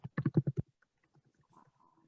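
A computer keyboard clatters with a quick burst of five or six close keystrokes, followed by a few fainter scattered taps.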